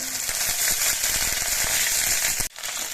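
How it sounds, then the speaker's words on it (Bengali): Ginger paste and whole garam masala of cardamom, cinnamon and cloves fry in hot oil, a loud, dense sizzle with crackling pops that cuts off abruptly near the end, then resumes more quietly. "গরম মশলাগুলো ভাজা হয়ে যাওয়ার পর এর মধ্যে এক চামচ পরিমাণ আদা বাটা দিয়ে দিচ্ছি"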